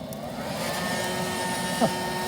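An electric fan charcoal fire starter, used like a blow dryer to light charcoal in a Weber Master Touch grill, blows air in a steady, loud whooshing roar with a faint hum and no talking.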